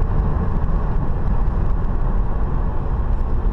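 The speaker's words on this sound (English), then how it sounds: "I'm in 4th gear right now, and any gas I give it shakes the car." A 2000 Ford F-150 Flareside pickup rumbles along in fourth gear at low RPM, shaking under throttle; a steady, dense interior engine and road drone runs throughout, with no talking.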